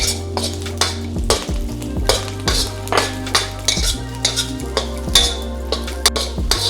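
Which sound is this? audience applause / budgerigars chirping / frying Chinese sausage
frying Chinese sausage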